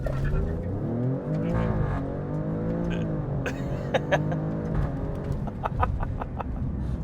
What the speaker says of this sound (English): It would be unfair for me to drive this and not at least demonstrate launching it at least once.